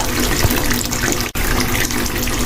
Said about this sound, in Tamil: தண்ணியை வேற ஃபுல்லாக திறந்து வச்சிருக்கா